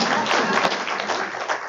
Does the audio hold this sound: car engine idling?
no